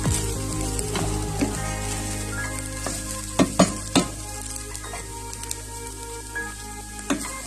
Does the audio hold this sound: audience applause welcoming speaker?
no